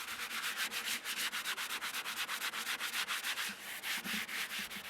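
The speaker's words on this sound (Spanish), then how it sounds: "Luego de eso le paso una lija más fina para dejar la superficie bien lisa." Sandpaper rubbing steadily across the edge of a handmade cement washbasin, a close, continuous scratchy rasp pulsing in quick back-and-forth strokes with no voices.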